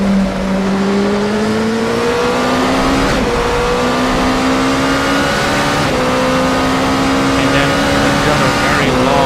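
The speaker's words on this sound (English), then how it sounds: "here's a heavy braking section into the sand." A race car in a sim racing game at Le Mans brakes heavily into a sand section, its loud engine tone sliding down and climbing again through gear changes, steady and close throughout.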